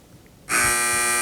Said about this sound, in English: Teams wait for the buzzer.